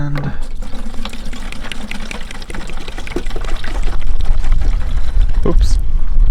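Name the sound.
liquid being poured into a Simpson 2300 PSI pressure washer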